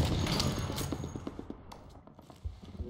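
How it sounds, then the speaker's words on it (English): Rapid bursts of automatic gunfire in the first-person shooter BlackLight: Retribution during a team deathmatch, moderately loud at first and then thinning into scattered distant shots and mechanical clicks. "Who shot at me?"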